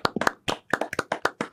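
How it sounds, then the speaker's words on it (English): Several pairs of hands clap in brisk, uneven bursts of applause, sharp close slaps in quick clusters with short pauses between, no voices over them. "To every single person that submitted a comment, we bow to thee. We applaud thee."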